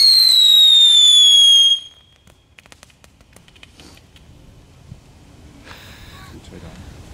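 A dangerous Dutch firework lets out a loud, shrill, falling whistle that stops abruptly, followed by faint scattered crackles and pops outdoors against light wind noise.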